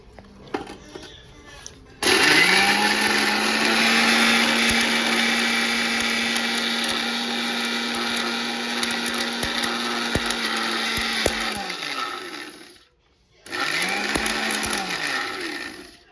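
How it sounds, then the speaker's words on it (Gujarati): A kitchen mixer grinder whirs loudly while reducing toast to fine crumbs, running steadily for about ten seconds, cutting off, then starting again for a shorter burst. "ટોસ્ટને આપણે મિક્સરમાં ગ્રાઇન્ડિંગ કરી નાખશું"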